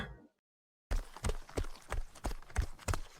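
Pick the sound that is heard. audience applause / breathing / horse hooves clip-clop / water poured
horse hooves clip-clop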